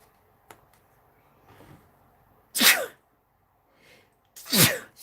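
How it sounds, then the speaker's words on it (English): Two sharp, loud sneezes burst out about two seconds apart. Only faint rustling comes before and between them. "I'm going to sneeze."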